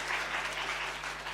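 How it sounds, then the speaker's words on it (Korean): Applause welcoming a guest during a Korean Sunday church service, steady broadband clapping from the congregation sustained through the whole short moment, moderately loud and even, with no voices over it. "박수로 환영하겠습니다."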